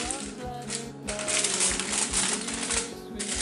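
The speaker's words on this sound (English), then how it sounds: "we are going to remove" Aluminium foil peeled back from a baked beef lasagne dish, a run of close crinkling, crackling rustles with sharp bursts and brief pauses, loud and near.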